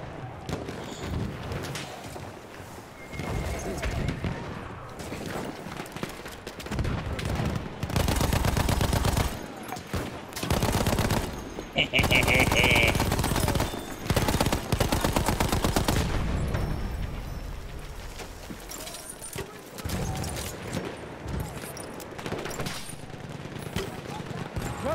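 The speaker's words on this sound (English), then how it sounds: "Especially since I'm being shot at and I don't like that." Video game gunfire crackles in dense bursts that swell to a loud peak midway, sounding close and heavy, with a player's voice intermittently over it.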